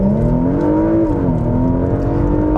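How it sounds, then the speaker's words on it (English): A 2020 Porsche Macan Turbo engine in Sports Plus mode drones loud and close, its steady note rising and falling slightly as it pulls, with no talk over it. "the engine note has changed"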